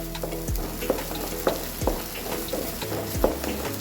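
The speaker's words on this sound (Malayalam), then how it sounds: "ഇത് നല്ലോണം വെന്തിട്ട് ഒന്ന് മൂത്തിട്ട് ഫ്രൈ ആയി വരണം." Chana masala frying in a pan, a steady close sizzle with several sharp scraping stir strokes spaced through it, no voices.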